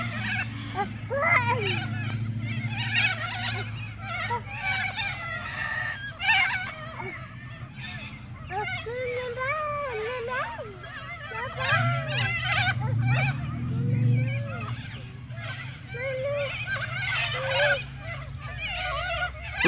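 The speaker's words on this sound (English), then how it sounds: "Look at all the birds." A crowd of geese and ducks at a park keeps up a busy chorus of overlapping honks and squawks, loud and close, over a low background rumble.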